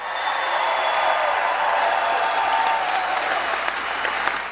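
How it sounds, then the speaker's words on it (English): Crowd applause at a political rally for a sheriff speaking at a Donald Trump event in Melbourne, Florida, a dense, even roar of clapping that holds steady throughout, no one speaking over it. "So give him another round of applause for Chief Wiley of West Melbourne."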